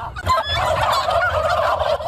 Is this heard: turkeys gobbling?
yes